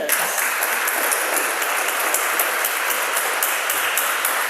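Sustained, loud applause from a church congregation fills the space evenly from start to finish, with no voices rising above the clapping.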